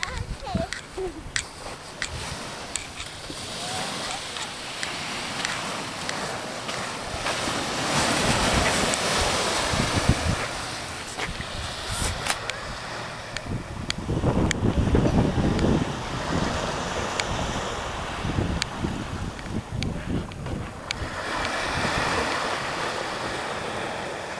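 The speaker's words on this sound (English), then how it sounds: "I'm going to go take a look at the beach." Beach by seaside condos with waves washing in and steady wind buffeting the microphone, a continuous broad rush that swells and fades, fairly close and unbroken throughout.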